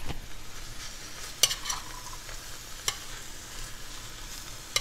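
Onions are tossed in oil in a Cutco wok, giving a soft, steady sizzle with a few sharp clinks and scrapes of a utensil against the metal, close by and fairly quiet.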